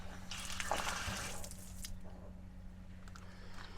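Cold water flows under pressure from a household pipe on a self-sufficient water system, starting with a splashy gush that settles into a steady, softer trickle and drip, heard close with no talking.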